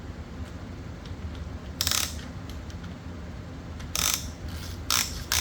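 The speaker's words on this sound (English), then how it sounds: "Got a ratchet." A ratchet wrench works on the big bolts of a Pontiac LeMans, giving short bursts of quick, sharp clicking separated by pauses against a low, steady background hum.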